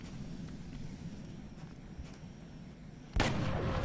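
A single sharp gunshot in a UFO-themed strategy video game cracks out loud near the end, after a stretch of low rumbling ambience.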